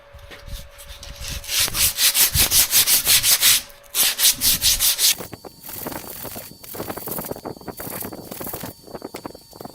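A brake part on a 1989 Dodge W100 is rubbed by hand with emery cloth and WD-40, giving rapid rhythmic back-and-forth scrubbing bursts, loud and close, then lighter scattered rubbing and handling noises.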